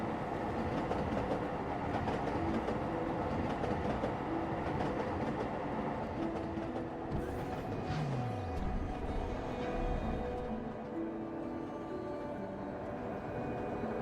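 A train rolling on rails in the video game Eden Crafters, a steady continuous rumble with faint clacking that holds at an even level throughout, with a brief tonal sweep near the middle and no talk.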